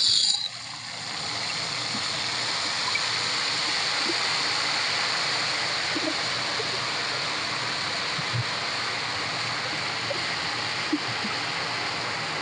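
Herbal hair oil heating in a pan gives a steady, continuous sizzling bubble, close and even throughout, with a few faint clicks and knocks over it.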